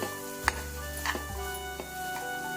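Spoon or ladle stirring masala-coated tomato rice in a pan, seasoned with soy sauce, chili powder and green chilies: a few soft scrapes and clinks over a steady low background hum, no talking.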